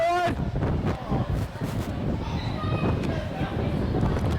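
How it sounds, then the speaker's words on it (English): Steady low wind rumble and buffeting on the microphone at a women's rugby league grand final, continuous throughout, with faint distant voices underneath. "It's very windy here."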